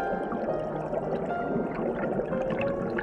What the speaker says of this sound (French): Dans tes menues cascades, l'eau danse et s'éveille.